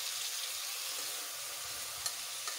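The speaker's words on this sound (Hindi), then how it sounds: "अभी 5 मिनट तक मैं ये ऐसे तेल में कस लेती हूँ, अच्छे से पका लेती हूँ" Ridge gourd curry frying in oil after the spices were roasted gives a steady, continuous sizzle close up, with a couple of faint scrape ticks near the end and no voices.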